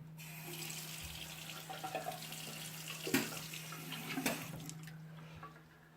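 Tap water running steadily into a sink outdoors, filled for a chlorine test, with a low steady hum beneath and a couple of brief clatters partway through.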